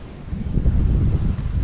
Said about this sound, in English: It's a blizzard.